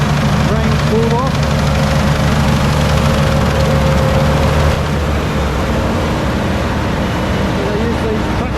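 A tracked rice combine harvester works through a muddy paddy field in Japan, cutting rice. Its steady, close engine drone holds level throughout with a low rumbling hum.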